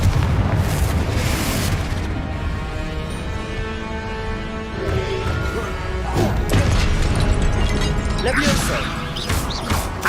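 Repeated Confringo blasting-spell explosions in Hogwarts Legacy: loud booming blasts with crashing, mechanical debris sounds, recurring over ten seconds with a voice faintly underneath.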